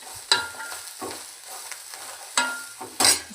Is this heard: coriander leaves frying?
yes